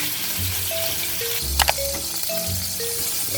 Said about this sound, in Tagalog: Iprito lang po natin siya ng light brown.